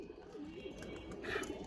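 A tournament-bred Musaldam pigeon coos softly once or twice in a short, quiet burst, heard close up with faint room ambience and no talking.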